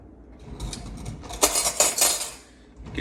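A spoon clinks and scrapes against dishes in a kitchen while plain Greek yogurt is prepared for tzatziki: a few bright metallic taps clustered in the middle, fairly quiet and close, with no voices.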